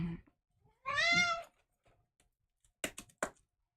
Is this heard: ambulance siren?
no